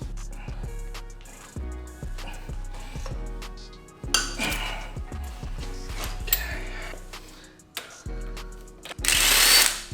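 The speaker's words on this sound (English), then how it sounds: "I loosen the crank bolt with a 22 mil" A power tool or impact driver loosens the crank bolt on a Subaru EJ25 boxer engine from a 2010 Legacy GT with a 22 mm socket, in several loud whirring, rattling bursts close by, ending in a metallic clatter.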